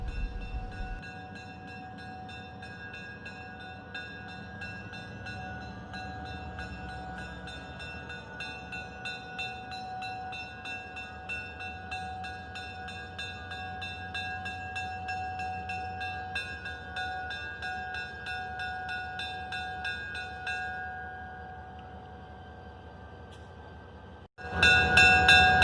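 A GP9 diesel locomotive on the Conway Scenic Railroad rumbles and drones steadily along the track with a sustained engine tone, ending in a sudden loud burst near the close.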